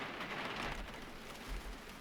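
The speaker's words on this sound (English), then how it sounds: "It seems like every time I try to do something important first thing in the morning, it's raining out and it's dark." Steady rain falls in the video game Gold Rush on a dark early morning, a continuous close hiss of drops with faint low rumbles underneath and no talking.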